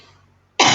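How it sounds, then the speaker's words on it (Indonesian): One sudden, loud, harsh cough from a person bursts out after a quiet moment and carries on to the end. "Nggak tahu nih kenapa batuk nih tiba-tiba"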